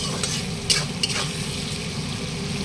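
Onion sizzling in oil in a pan, a close, steady frying hiss with a couple of sharp spatula scrapes and clicks as it is stirred.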